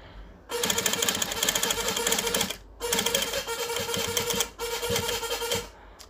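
A sewing machine runs in three long, steady bursts of rapid mechanical stitching around a raihan-style kurta collar, loud and close, with brief pauses between runs and no talking.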